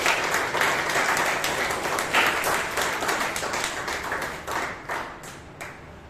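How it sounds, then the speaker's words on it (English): Applause from members at a Bangalore Toastmasters meeting, crisp individual claps in a lively burst that thins out toward the end, close and fairly loud. "Give a big round of applause."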